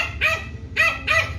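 Dog barking three times in quick succession, short sharp yips close by with no talking.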